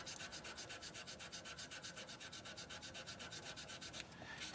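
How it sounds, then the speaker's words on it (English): A handmade brush handle being cross sanded: fast, rhythmic back-and-forth rasping strokes, close and steady, about a dozen per second, stopping just before the end. "now we're going to do some cross sanding to sand out the sand marks that we just made"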